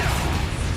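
Spell impacts from Incendio and Confringo in the Hogwarts Legacy video game: a loud, dense burst of crackling, whooshing magic with a heavy low rumble, sustained throughout a brief moment.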